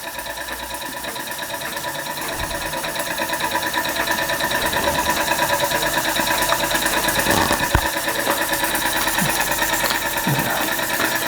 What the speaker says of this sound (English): Very quiet running an engine as well.